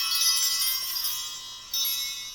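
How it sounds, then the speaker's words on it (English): High, shimmering bells rung to open a tarot reading, a steady tinkling wash that stays bright throughout with a fresh strike near the end, heard alone. "I want to ring the bells and call in some good energy"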